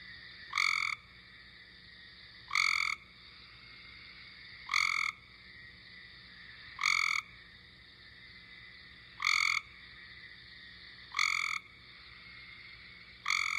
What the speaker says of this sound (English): So that's the Cope's gray tree frog.